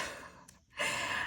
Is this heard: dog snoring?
yes